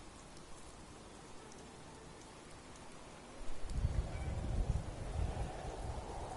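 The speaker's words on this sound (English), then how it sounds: "Fine, it's raining." Steady rain in Fallout 76 hisses throughout, with a heavier downpour of drops and patter swelling in partway through, nearby and fairly loud.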